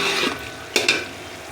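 Mutton curry with fried onions is browned in a large pot. Sizzling frying fills the clip, with a couple of sharp stirring scrapes near the middle and no voices.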